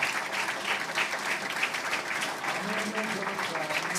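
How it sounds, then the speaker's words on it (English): Sustained applause from a conference audience, steady dense clapping throughout at moderate volume, with a faint voice underneath. "right now it's the right time for the applause for those people and for you as the audience"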